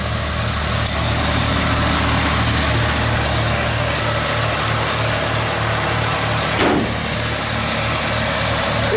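An old truck engine idles smoothly and steadily at close range, a constant low rumble with an even rhythmic throb and no talking.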